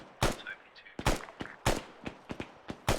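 Heavy .50 cal machine gun fire in the Arma military video game comes as several sharp, loud bursts of shots spaced across the moment, with faint radio voices between them.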